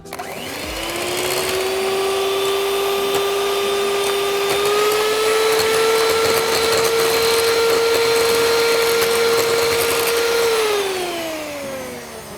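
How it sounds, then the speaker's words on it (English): An electric whisk mixes key lime pie filling with a steady, loud motor whine that holds for about ten seconds and then slows and winds down at the end. "So I squeezed all my lime, one more whisk, not for more than 1 or 2 minutes"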